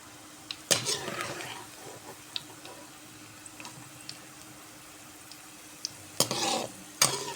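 Bitter gourd and potato pieces frying in a pan, a low steady sizzle broken by a few sharp clinks and louder stirring scrapes near the start and end, heard close and alone.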